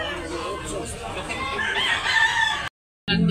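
A rooster at a chicken market in Tabunok, Talisay, Cebu gives a loud, strained crow that builds over a couple of seconds amid the busy hum of the market, then cuts off abruptly.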